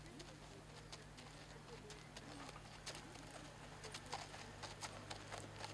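A horse walks at a four-beat gait, its faint hoof clops landing one after another in an uneven patter over a steady low hum, heard from some distance.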